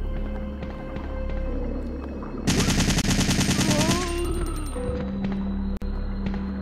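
An assault rifle in Resident Evil 3 lets loose a loud, fast automatic burst of about a second and a half, rising over a low hum of game ambience that continues after it stops.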